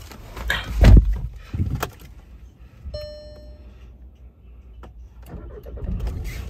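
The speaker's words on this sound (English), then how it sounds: "Now let's give this car a start up." A 2010 Audi A1 1.6 manual S line starts up nearby: a loud starter crank and catch, then a settled idle with a brief chime. The engine note swells again toward the end.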